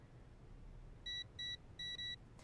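Keypad on a safe in the wrestling video game WWE 2K20 gives four short electronic beeps in two quick pairs, clear above a low steady background hum.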